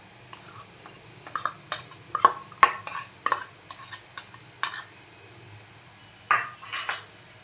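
Grated fresh coconut is stirred into Malvani-style red amaranth (lal math) bhaji in a pan, with scattered scrapes and metallic clinks of a spoon against the pan and a faint sizzle, and no talking.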